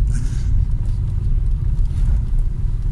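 A steady, low engine idle from a Maruti Suzuki Vitara Brezza rumbles close by, a constant droning hum with no revving and no voices.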